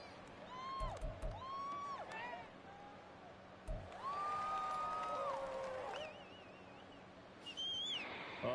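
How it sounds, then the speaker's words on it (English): Stadium crowd in an American football video game swells into a louder roar for a few seconds during a big play, with whistles and chirping calls over faint background voices. "A big play here as the crowd noise rises"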